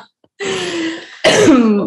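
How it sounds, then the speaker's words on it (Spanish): A woman coughs close to the microphone: a short rough throat-clearing burst, then a louder harsher cough that trails off, heard alone without talk. "Pido disculpas ya de antemano porque voy a toser, me voy a sonar."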